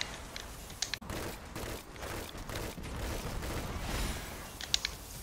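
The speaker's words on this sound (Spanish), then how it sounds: "¿De dónde vienen los cañonazos?" Cannon fire in a video game: a few sharp booms ring out over a low, rumbling battle backdrop, one early and another near the end, fairly distant and muffled.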